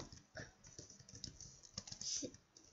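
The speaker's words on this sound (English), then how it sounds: "I'm going to type PowerPoint" Computer keyboard keys are tapped in quick, uneven bursts, close and moderately quiet, with no voice over the clicking.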